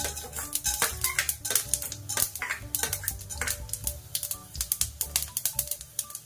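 Mustard seeds, cumin, fenugreek and black pepper crackle in hot oil as a fish curry tempering, a busy stream of sharp pops and sputters with clinking of a utensil against the pan, no talk over it.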